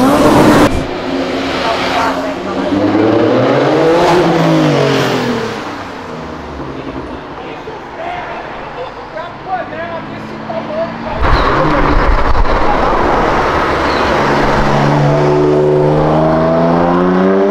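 A Mitsubishi Lancer Evolution revs hard nearby at a car meetup, engine note climbing and falling in loud sweeps, with excited voices talking over it and birds faintly in the background.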